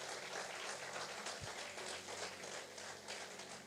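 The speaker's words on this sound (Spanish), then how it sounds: "Yo quiero que le den un aplauso al Señor por los diáconos." A church audience claps for the deacons in a faint, continuous patter of applause, heard at a distance with a single low thump partway through.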